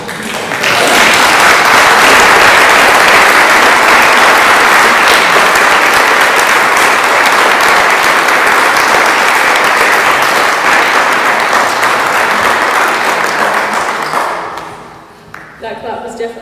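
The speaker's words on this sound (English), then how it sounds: "That clap was definitely deserved." Loud, sustained applause from an audience at a primary school graduation, a thick roar of many hands clapping close by for about fourteen seconds before fading out, followed by a quieter tail of room noise.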